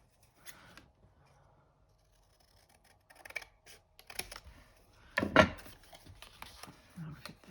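Paper being trimmed with scissors while making a junk journal pocket album, a few quiet snips and rustles, with a louder cluster of cutting and handling sounds near the end.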